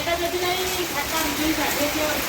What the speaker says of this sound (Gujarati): વરસાદ ચાલુ થઈ ગયો ધોધમાર સિઝનનો પહેલો વરસાદ